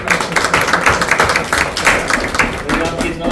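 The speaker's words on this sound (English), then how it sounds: "So we just clap now." Meeting participants clap together at a GTMC meeting, a short, fairly close burst of scattered claps with voices talking over it.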